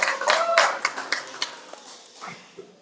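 Applause from an audience at a farm dispersal auction, honoring a woman's beautiful garden: a spread of hand claps with a few louder separate claps standing out, thinning toward the end, with some voices underneath.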